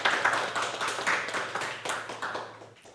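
Applause during a family worship service broadcast online from a church, a few people clapping steadily and close by for a few seconds, fading out toward the end.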